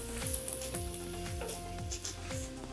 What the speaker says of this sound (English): little cut up pieces of bacon. Can you hear that sizzle?